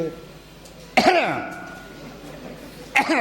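A man gives two short, deliberate throat-clearing coughs, the first about a second in and the second near the end, with quiet room tone between them.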